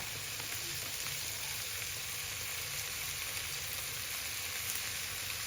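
Mixed vegetables and fresh shrimp stir-frying in a hot pan, a steady, close sizzle of oil that continues evenly throughout with no talking.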